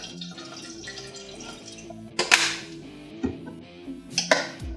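Filtered water is poured into a plant-based green protein smoothie in a blender, giving a close trickle with several sharper splashes and drips, some louder bursts near the end.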